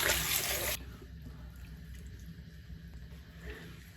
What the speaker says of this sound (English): All right, now I'm just gonna rinse it off.